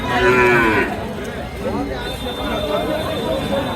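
A cow moos loudly and close by at a busy cattle market, one drawn-out low call at the start, followed by people talking over the general market noise.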